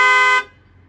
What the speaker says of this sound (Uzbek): Hop, 3 ta 2 marta bosamiz, signal chaladi.